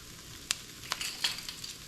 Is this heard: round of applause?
no